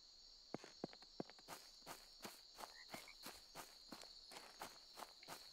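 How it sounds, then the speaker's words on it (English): Footsteps on a wooden floor in EverCraft, an EverQuest-inspired Minecraft-style MMO game, tap in a steady walking rhythm, crisp and close, over a constant high chirping of crickets and night insects. "the footsteps on wood sound really nice"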